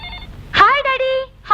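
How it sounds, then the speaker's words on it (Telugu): A telephone rings with a steady electronic tone in a Telugu film scene, short and loud, with a voice overlapping. "అదిగో డాడీ ఫోన్ చేసినట్టున్నాడు"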